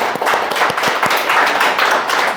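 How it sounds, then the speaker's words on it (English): A small group claps steadily for a couple of seconds, the sharp hand strikes overlapping into a brief round of applause close by. "that deserves an applause"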